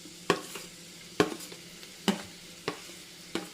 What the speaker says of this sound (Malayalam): വെളിച്ചെണ്ണ ചൂടായി വന്നിട്ടുണ്ട് അപ്പോൾ അതിലേക്ക് നമ്മൾ കട്ട് ചെയ്ത് വെച്ചിരിക്കുന്ന പാവയ്ക്കയുടെ കഷ്ണങ്ങൾ ഇട്ട് കൊടുക്കാം